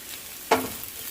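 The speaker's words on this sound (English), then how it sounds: "And then I'm going to remove all these veggies from the pan and saute the shrimp" Shrimp sauté in a pan with a quick burst of sizzling as they are stirred, one short, sharp hiss close by over a low, steady frying background.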